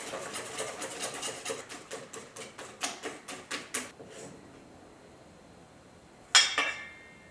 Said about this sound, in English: Just give it a good whisk.